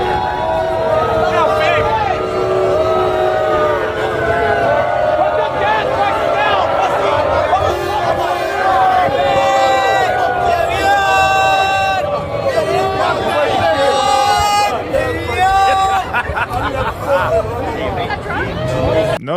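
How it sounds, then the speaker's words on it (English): Dense crowd noise outside a New York building as Trump's motorcade arrives, a continuous loud mass of voices and jeering babble that fills the scene without a break. "crowds boo Trump as his motorcade arrives"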